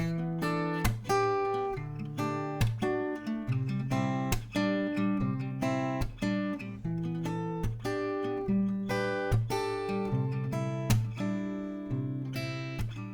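Acoustic guitar plays full, ringing chords with sharp percussive strums in a steady rhythm, moving through several chord changes, fairly quiet and close.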